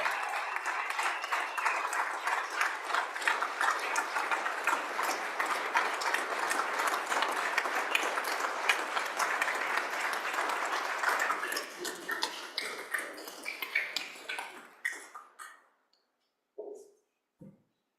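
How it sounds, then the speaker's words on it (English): Applause fills the House of Representatives chamber, dense sustained clapping from a crowd that thins out and stops, followed by brief scattered sounds. "Please give them a round of applause."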